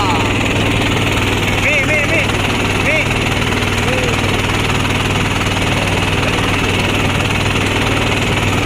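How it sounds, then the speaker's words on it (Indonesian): A boat engine idles at the shore in Bakongan, South Aceh, before the short crossing to Pulau Dua: a loud, constant, throbbing mechanical drone close by, with people talking over it. "Oke, kita akan nyebrang menggunakan kapal itu, nanti kapal yang kita naik."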